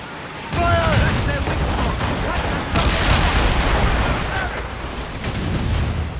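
Ship cannons fire in a naval battle in Assassin's Creed Rogue: a dense, continuous barrage of booming shots and crackling gunfire that stays loud throughout, with voices faintly mixed in.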